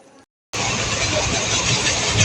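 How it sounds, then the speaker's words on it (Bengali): Interior of a moving passenger train: after a brief faint moment and a short gap of silence, a loud, steady broadband rumble and rushing noise fills the carriage, close and continuous. "তো এই যে বাবু আর আমি বসে বসে যাচ্ছি, বাবু সব দেখছে ট্রেনে করে এটা সেটা"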